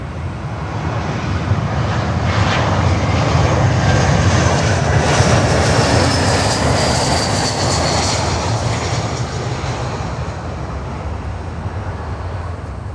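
A heavy Airbus A350 jet lands on runway 12 at Miami airport, with a loud, continuous engine roar up close that swells slightly mid-pass and then slowly eases off.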